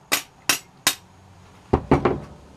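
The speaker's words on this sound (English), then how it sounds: "put this end in the vise and then just beat this with a hammer till it came off" A hammer strikes the end of a small block Chevy distributor to drive the shaft out, the distributor held in a vise: three sharp metallic blows, a pause, then three more closely spaced hits, near and loud.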